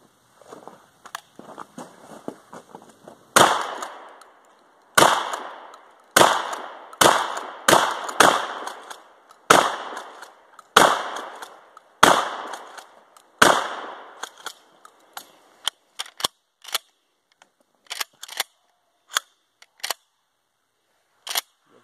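A Remington Model 870 shotgun fires a string of loud, sharp shots outdoors at uneven intervals, each blast followed by a short decaying echo, with faint clicks and handling sounds between them.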